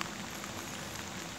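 Rain falling at a fishing pond during a carp fishing day: a steady, dense hiss of drops pattering on water and surfaces, even and unbroken from start to finish, with no voices.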